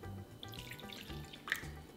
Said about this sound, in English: In a bowl, add the hot water